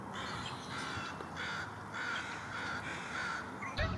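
A crow caws during an early March birding outing in Vancouver, a series of about five harsh, evenly spaced calls carrying over steady outdoor background noise, with a brief knock at the end.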